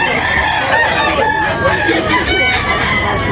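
Roosters crowing loudly and repeatedly at a cockfight (sabong), several birds overlapping and clucking in a dense, noisy crowd with constant background chatter.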